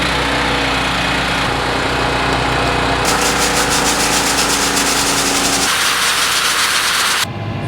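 A tractor engine turns over and catches, then runs steadily and loud with a rough, mechanical drone and rising hiss that shifts in pitch partway through before easing near the end, with no talking.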